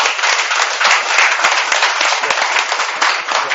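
An audience at a Korean political forum bursts into loud, dense applause, many hands clapping steadily and evenly throughout with no pause and no voices heard.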